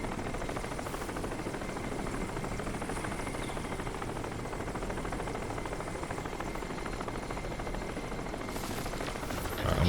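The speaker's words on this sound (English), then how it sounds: "I could technically take this helicopter out wherever it is." Helicopter in the Crysis video game: a steady, dense rotor and engine roar that holds constant and loud throughout, with a slight swell at the very end and no talk.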